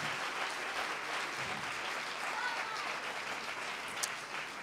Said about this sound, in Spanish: Un fuerte aplauso para el maestro, por favor